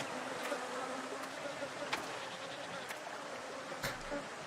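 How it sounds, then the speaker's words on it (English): Faint, steady buzzing of bees in a quiet outdoor scene, a continuous insect drone with a few soft clicks and no voices. "You hear the bees, but you don't see them"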